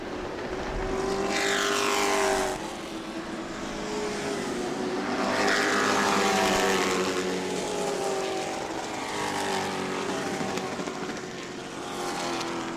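Pro racing trucks roar past one after another during qualifying at New Smyrna, each pass swelling loudly and then fading, with engines droning continuously between passes.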